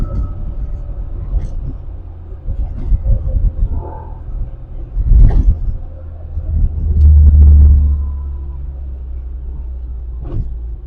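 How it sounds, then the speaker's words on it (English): Low rumbling road noise inside a small JDM Mini car on a winter road, with sand and road debris pattering and thudding against the underside in uneven bursts, plus a heavier, longer rumble partway through. "you do hear all the sand and stuff hitting the bottom of the car"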